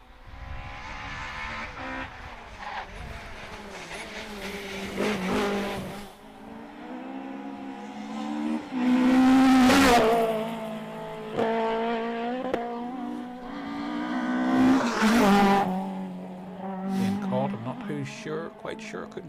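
Rally cars on a stage at the Galway International Rally roar past in loud surges, with engines rising and falling as two cars pass in turn, the second one hitting hard near the middle.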